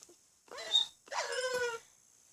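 A dog in the video game Minecraft makes two short whining barks in quick succession, close and fairly loud, with no talking.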